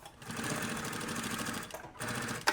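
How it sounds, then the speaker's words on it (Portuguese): A sewing machine runs steadily, stitching the bottom seam of a quilted puffer backpack, with a short pause before the motor starts up again; close and fairly loud, with no talking. "E aí a gente vai fazer uma costura de 1 centímetro conforme a marcação que a gente fez."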